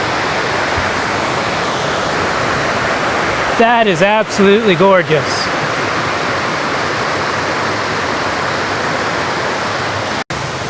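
Waterfalls roar in a broad, steady rush of falling water, loud and unbroken throughout, while someone briefly speaks over it near the middle.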